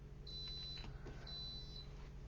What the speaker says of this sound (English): It's my coffee pot warning me that it's turning off.